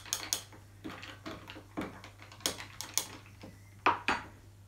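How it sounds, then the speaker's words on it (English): The end of a spoon stirs a mocktail in a glass, making a run of bright, close clinks and taps that repeat in an uneven rhythm over a low hum. "Give it a quick stir with the end of a spoon."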